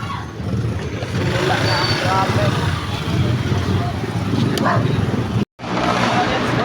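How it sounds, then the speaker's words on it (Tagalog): Road traffic in the Philippines, heard from a bicycle: a continuous, loud rumble of cars, motorcycles and trucks that breaks off briefly near the end. "Ito na, simula na ang traffic."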